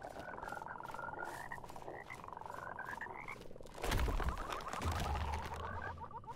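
In the video game Mortal Shell, frogs croak in quick rattling pulses, then a loud thudding impact and crash cuts in partway through while the croaking carries on faintly underneath.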